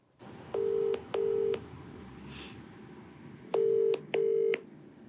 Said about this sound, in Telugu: సో నెంబర్ ఇచ్చిందండి, నేను కాల్ చేస్తాను.